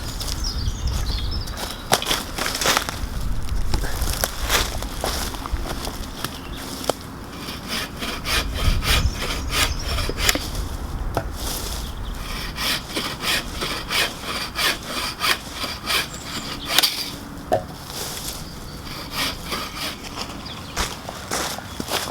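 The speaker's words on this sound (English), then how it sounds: "dead standing, so as you can see, these saws absolutely fly" A Laplander folding saw cuts through dead standing wood outdoors, its rapid back-and-forth strokes rasping steadily and close up for over twenty seconds, with faint footsteps and birds in the background and no talking.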